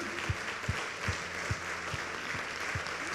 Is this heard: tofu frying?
no